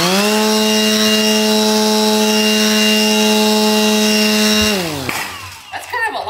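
An angle grinder spins a 14-inch propeller with a loud, steady, close-up whine that holds for several seconds. The motor then winds down and cuts off, leaving a few scattered knocks.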